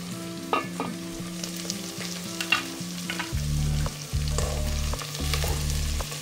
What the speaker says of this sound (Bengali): পেঁয়াজগুলো একটু ভাজা হবে